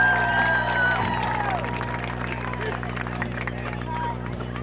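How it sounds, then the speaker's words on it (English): Crowd cheering and applause for a high school varsity cheerleading squad at a Hyde Park football game, a steady roar of clapping and voices across the stadium with whistles and shouts rising early, then a sustained wash of noise. "Let's give a big round of applause for your Hyde Park varsity cheerleaders."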